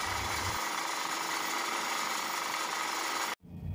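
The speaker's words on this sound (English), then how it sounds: "bolt hole drilling is done on flange face using drilling machine" A drilling machine bores bolt holes into the face of a cast brass flange fitting, giving a continuous loud grinding, whirring din that cuts off abruptly near the end.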